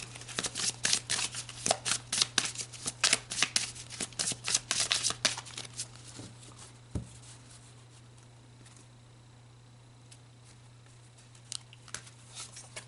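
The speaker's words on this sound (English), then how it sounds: "So let's pull more cards to dig deeper of that, stability, that activation." Tarot cards being shuffled in a rapid run of crisp riffling flicks for about six seconds, then fading to near quiet with a few soft card taps toward the end, set over a steady low background hum.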